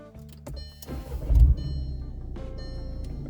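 A 2015 VW Passat TDI SEL diesel cranks and starts nearby: a brief whir, a loud starter burst, then the engine settling into a steady low idle.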